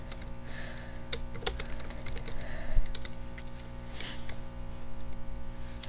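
Keys clatter on a computer keyboard in uneven bursts as a name is typed, fairly close and moderately quiet, with no one speaking.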